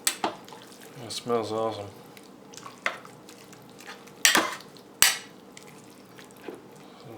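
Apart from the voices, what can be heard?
stirring slow-cooked mixed greens with salt pork in a pot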